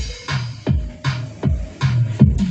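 A ZK MT21 mini amplifier with subwoofer plays music with the treble turned off, so only bass comes through: a loud sequence of booming low thumps and sliding bass notes, about one hit every half second, with no voices.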